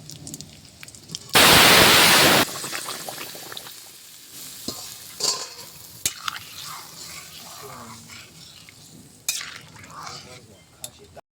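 Cumin seeds and bay leaves hit hot oil for tempering in a home kitchen, a loud burst of sizzle followed by quieter crackling and spoon stirring, with a person talking.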